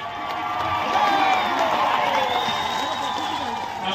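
Dense crowd noise at a rural village in Keonjhar, Odisha, welcoming the chief minister: continuous ululation and cheering with clapping, loud and sustained throughout.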